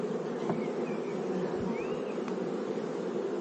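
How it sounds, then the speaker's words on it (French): Honeybees buzzing around a hive, a steady close drone with individual bees whining past, the pitch rising and falling as they fly by. "ça c'est une abeille qui a les petites pelotes en dessous là"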